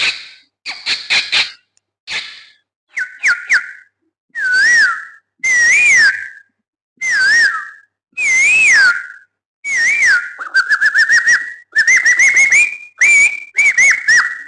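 Morning birdsong imitated by a human voice: bright whistled chirps, trills and warbling calls in quick bursts and longer sliding phrases, loud and close, with short pauses between them.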